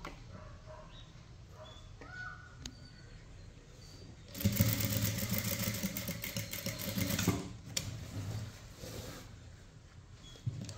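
Sewing machine stitching lace onto a blouse, running in a loud, steady burst for about three seconds midway, with quieter handling noise and faint background sounds before and after.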